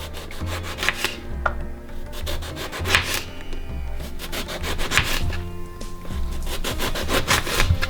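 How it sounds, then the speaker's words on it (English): A knife slicing an eggplant into half-inch rings on a cutting board, with repeated short cuts at a steady rhythm, close and clear, and no talking. "And then you cut rings of like 1/2 inch."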